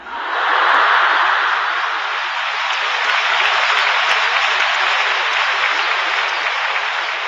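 Sustained, dense applause from a lecture audience fills the room, rising quickly to a loud peak near the start and then holding steady and even until the end, with no voices over it.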